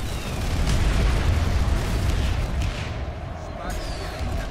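Tank cannon fire and explosions in the Planetside 2 video game, centered on a Prowler tank, a loud rumbling barrage of booms through most of the stretch, easing slightly toward the end.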